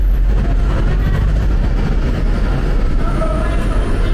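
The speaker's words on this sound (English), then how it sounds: "Okay, so we take this train." Train rumbling at a station in Manila, Philippines, a steady loud low drone of wheels and carriages with faint squeals near the end, no talk over it.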